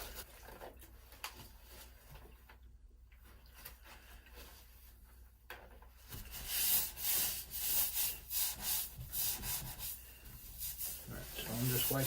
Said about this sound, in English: I'm just wiping the surface clean.